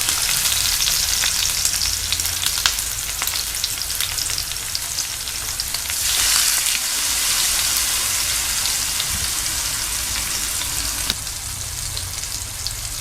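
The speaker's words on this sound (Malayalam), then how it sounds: "മാരിനേറ്റ് ചെയ്ത് വെച്ച ഫിഷ് ഫ്രൈ ചെയ്യാനായിട്ട് പാനിലോട്ട് വെക്കാം" Marinated seer fish fries in coconut oil in a pan, a loud, continuous, close crackling sizzle with a brief surge midway and no talk.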